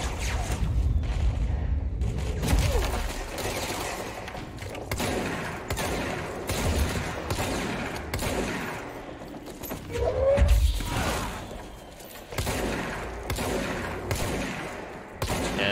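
Gunfire from the video game Control, several sharp blasts and a fusillade-like burst scattered through the clip, mixed with game sounds at moderate level, no talk.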